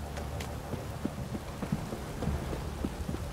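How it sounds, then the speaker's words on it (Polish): Rain in The Witcher 3 video game, a steady soft patter with scattered sharper drop taps and small knocks over a low rumbling bed, moderate level, no speech. "Zanosi się na deszcz."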